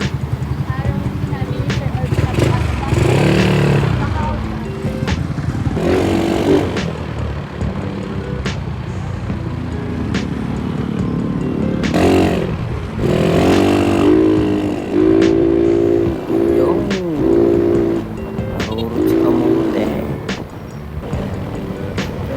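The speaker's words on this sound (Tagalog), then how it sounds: "Pagpasensyahan nyo yung mga pagharurot-harurot ko dito ah." A motorcycle engine revs and surges repeatedly while riding, with wind rush and someone talking over the engine noise.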